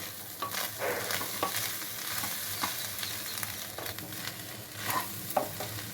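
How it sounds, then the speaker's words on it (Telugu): Fish eggs frying in a pan over a medium flame, with a steady close sizzle and occasional stirring scrapes throughout, no voices. "కొంచెం మీడియం ఫ్లేమ్లో టైం తీసుకొని వేయించుకుంటేనే బాగుంటుంది"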